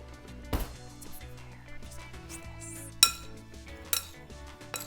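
A metal utensil stirs lemon juice and salt in a dish, with light scraping and a few sharp clinks against the bowl, close and fairly quiet.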